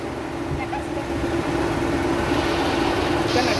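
A freshly assembled Suzuki Alto engine idles just after starting, giving a steady, even hum with a constant low drone that stays level throughout.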